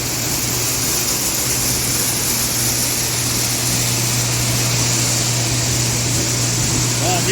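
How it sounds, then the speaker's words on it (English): Grain dryer full of corn running on a farm, a loud continuous mechanical roar with a steady hum, unchanging from start to finish, with someone talking over it. "This is the dryer, and this is full of corn."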